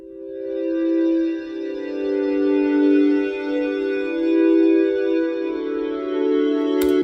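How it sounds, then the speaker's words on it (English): Sustained synth pads from a song's verses hold a steady, droning chord with rich layered harmonics, swelling gently and playing alone without voices, ending in a brief click. "And we have some weird pads and stuff that show up in the verses."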